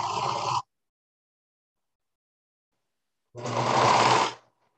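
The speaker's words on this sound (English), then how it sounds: "I'm going to go ahead and stitch right off the edge of this fabric." A serger sewing machine stitching a rolled hem off the edge of fabric runs in two bursts, a brief whir followed by a longer, steady buzzing run after a silent pause.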